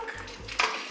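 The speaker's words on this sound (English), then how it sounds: "Just gonna toss your eggs around like this." A spatula scrapes and clanks against a metal wok as eggs are tossed around, with a short burst of close metallic clatter near the end.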